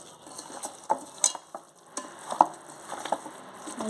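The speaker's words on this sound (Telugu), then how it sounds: "ఇప్పుడు మొత్తం ఇలాగా బాగా కలిసేటట్టు కలుపుకోవాలి" A kilo of raw chicken being hand-mixed for dum biryani with chili powder, turmeric, shahjeera, garam masala, coriander powder and salt, giving soft, close, wet squelching and stirring with scattered small clicks and taps, no voices.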